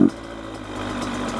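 A brand-new Yamaha YZ85 dirt bike, running rich and fouling its plug, fires up with no throttle: a short burst, then a steady, close idle running alone.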